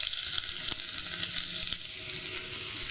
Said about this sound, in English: I'm going to add the shallot